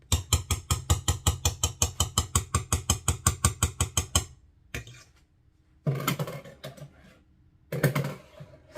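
A whisk clatters rapidly and rhythmically against a bowl while whipping homemade hair conditioner cream, about twenty quick, close taps in a steady run, then a pause and two shorter bursts of scraping and mixing.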